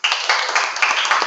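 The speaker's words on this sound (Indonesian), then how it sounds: "Tepuk tangan." A short burst of applause from a classroom of students, a quick patter of hands clapping fairly close, with a few sharper individual claps standing out.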